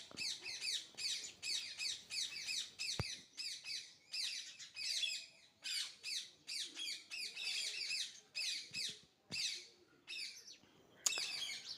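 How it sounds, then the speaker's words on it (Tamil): Parrots and sparrows call from a mango tree in the morning, a dense, continuous chorus of high chirps, squawks and tweets in rapid overlapping bursts, fairly close and steady throughout, with no voices. "கிளி சத்தம், குருவிகள் சத்தம்,"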